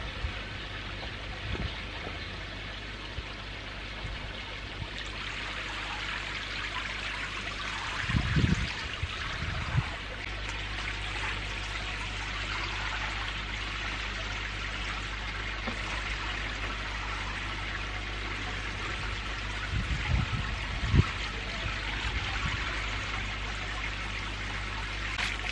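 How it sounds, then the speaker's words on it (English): Fluke treatment pours into a koi pond, a soft, continuous trickle and splash of liquid over steady water noise, with a few louder splashy bursts along the way. "let's get the treatment to fluke in"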